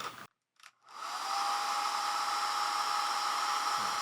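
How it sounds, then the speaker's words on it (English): A 1600-watt hair dryer powered by an EHOM EP1650 power station switches on after a short silence and runs steadily with a loud, even whooshing hiss and a high motor whine. "This is the hair dryer by itself."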